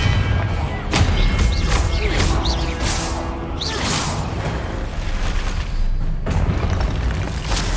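Spell explosions in the Hogwarts Legacy video game on PC: a rapid series of loud booms and whooshing blasts, with crashing impacts and magical swishes layered over dense game effects.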